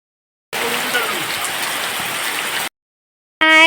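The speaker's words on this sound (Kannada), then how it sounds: "ಮಳೆ ಬಂತು." Steady rain hisses loudly for about two seconds, then cuts off abruptly, and a brief voice-like sound follows at the very end.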